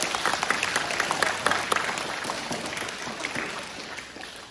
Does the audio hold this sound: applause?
yes